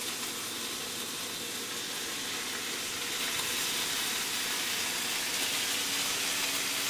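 Steady, dense sizzling hiss of bacon frying in a dry pan with no oil, close and continuous, growing slightly louder partway through, with no talking.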